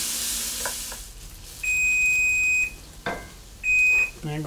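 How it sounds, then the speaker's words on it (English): A kitchen timer gives two loud, steady electronic beeps, each lasting about a second, over the faint sizzle of onions slowly caramelizing in a pan. A brief clatter is heard between the beeps. "There goes my timer."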